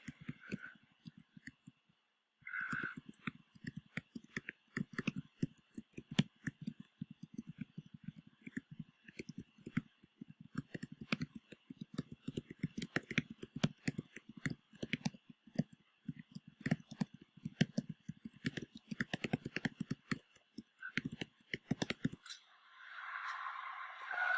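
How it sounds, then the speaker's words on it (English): Rapid, faint keyboard typing during a NitroType typing race, a dense and uneven patter of light key clicks that runs for about twenty seconds and then stops. "I thought I would show you an example of me uh, typing"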